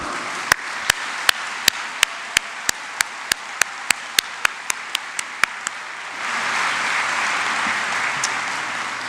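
A breakfast audience at a University of Guelph awards ceremony claps for the award recipients: about sixteen sharp, evenly spaced loud claps ring out first, then a softer, dense wash of many-handed applause fills the closing seconds.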